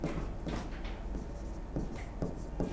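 Chalk or marker scratching across a classroom board during a history lesson, a series of short, faint strokes in an uneven rhythm over a quiet room.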